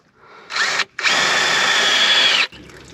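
A cordless drill bores out a broken hose fitting on a Land Cruiser water system: a short whir, a brief pause, then a sustained close, loud whine for about a second and a half before stopping.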